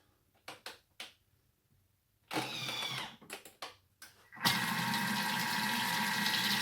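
A kitchen mixer at speed 3.5 blends egg yolks for a gravlax salmon sauce, starting with a few short bursts and then settling into a loud, continuous whirring churn.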